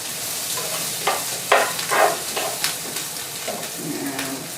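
A spoon stirring a creamy side dish in a pan, with soft scraping strokes repeating irregularly over a low background sizzle; no one speaks.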